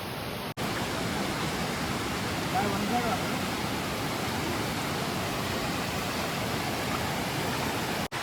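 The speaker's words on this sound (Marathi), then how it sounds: "आमचा धबधबा" A constant broadband roar of a waterfall at a village dam, steady and enveloping, with a faint voice briefly audible beneath it.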